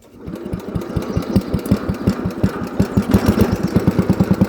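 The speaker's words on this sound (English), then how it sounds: "she's a tiny little tractor. But thought I would just show you guys a little bit of a mowing clip" A tiny lawn tractor named Alice idles close by before mowing, its small engine thumping in a steady rapid rhythm with a rough, knocking chug and no voices.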